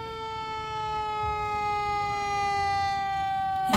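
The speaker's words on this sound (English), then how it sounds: "here comes Santa Claus riding on top of the fire engine" A fire engine siren sounds during a Christmas parade, a loud, sustained electronic tone that holds nearly level throughout over faint crowd noise.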